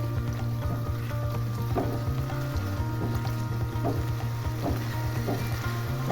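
Spice paste fries with browning onions in a pan for egg curry, with a steady crackling sizzle over a low, constant hum.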